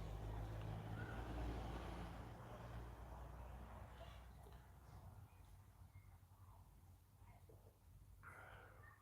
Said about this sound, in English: Can you guys hear all the cars driving past?